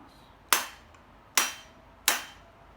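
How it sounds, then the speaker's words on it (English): Three sharp wooden mallet knocks while assembling a Japanese sword, evenly spaced with a short ring after each, close and fairly crisp against a quiet background. "Let's hammer it a little bit more."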